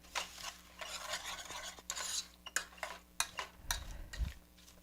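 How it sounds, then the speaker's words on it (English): Strawberries cooking down with sugar into a juicy topping, stirred with a spoon: soft scraping strokes with a few sharper clinks against the pan, faint and close, no talking. "Use a spoon to stir them"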